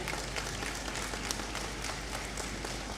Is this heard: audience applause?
yes